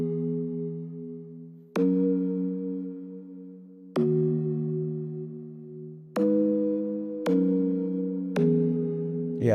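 Sustained synth chords from the Diva synthesizer's HS Childhood preset, a simple pop progression in an Afro beat track, changing about every two seconds with soft attacks and long, warm decays, alone and fairly quiet.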